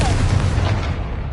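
A Confringo fire-blast spell detonates in Hogwarts Legacy, a dense, loud rumbling burst that sustains across the moment with heavy low-end roar and crackling hiss.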